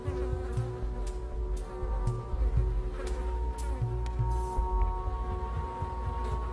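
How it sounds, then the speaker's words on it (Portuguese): A stable fly buzzes close by as it lands to bite a bare arm, a steady droning whine that holds throughout, broken by scattered soft taps and rustles. "Em pouco tempo, a primeira mosca de estábulo ataca."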